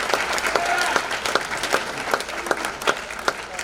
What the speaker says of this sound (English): please give him a round of applause and your attention.